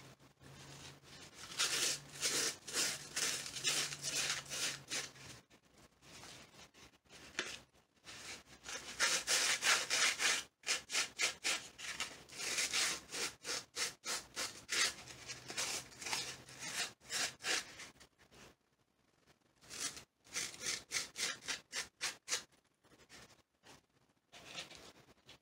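A tool scrapes out the inside of a dried gourd being made into a birdhouse, making close, rasping, rhythmic strokes in several bursts with short pauses between them.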